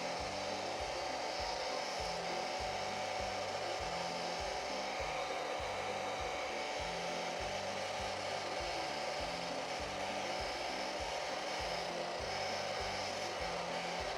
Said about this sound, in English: This poor beat up dryer.